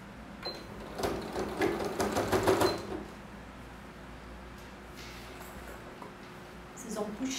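A sewing machine stitches the seam of a children's fabric pouch, a quick rattling run of needle strokes for about two seconds, then stopping to near quiet before a brief burst at the end.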